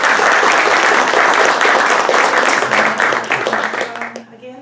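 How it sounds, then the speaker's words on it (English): Warm audience applause at a community solidarity event for Sudan in Marina, California, loud and dense at first, then thinning and fading out toward the end. "So we would like to give you a warm applause."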